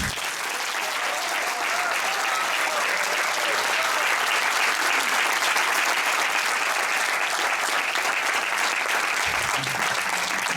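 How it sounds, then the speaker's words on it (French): Long, steady applause fills the hall at the closing of an international African film festival, many hands clapping densely and evenly, a faint voice surfacing briefly under the clapping. "je vais vous demander d'applaudir toute l'équipe"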